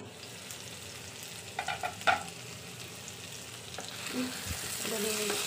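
Tempeh fries in a pan with sweet soy sauce seasoning for orek tempe, giving a steady sizzle broken by a few clattering stirs of the spatula, close and fairly quiet.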